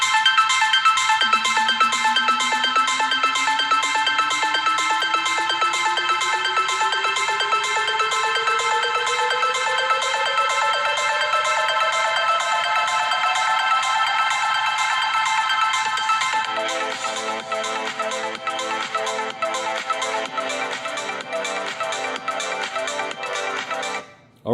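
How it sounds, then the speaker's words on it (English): Stereo speakers on a new 22,000mAh phone play loud, bright, continuous music with a rising sweep over the first part, then a shift to a busier rhythmic pattern before cutting off at the end. "let's quickly test the speaker quality"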